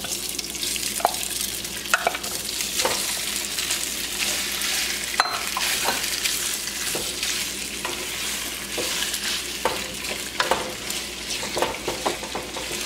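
Steady crackling sizzle of food frying in hot oil, with occasional stirring clinks and scrapes, close and continuous with no talking.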